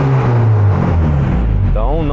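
Honda Civic VTi with a naturally aspirated B16 engine and electronic throttle body gives a quick throttle blip, the engine note rising sharply near the end over a steady idle, loud and close.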